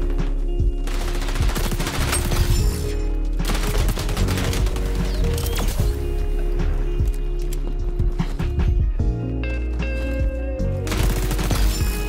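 Rapid bursts of MP7 submachine gun fire in the shooter XDefiant, loud and close, coming in repeated volleys with short pauses between them over steady game background noise.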